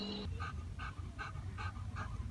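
A dog pants steadily and rhythmically close by, quick breaths repeating evenly over a low outdoor rumble.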